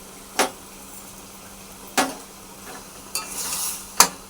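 Mung dal and ground kharkol leaf paste being stirred in a pan, four separate spatula scrapes spaced a second or so apart over a faint low sizzle, close and quiet.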